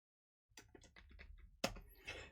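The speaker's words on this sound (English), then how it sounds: "Let me go ahead and type Khufu" Brief burst of keys tapped on a computer keyboard as a short name is typed, quick uneven clicks close up, ending in a louder clack and a short rattle.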